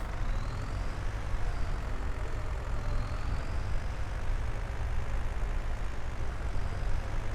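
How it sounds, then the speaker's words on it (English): A tractor engine from Farming Simulator 22 drones steadily, a continuous low, rumbling hum that stays even throughout, close by, with no talking. "let's go put another tractor in action"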